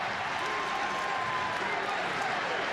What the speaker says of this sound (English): Great crowd on hand.